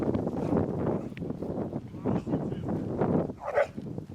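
A dog barks repeatedly during an outdoor long-leash training session, sharp barks and yips layered over a person's voice and wind, fairly close.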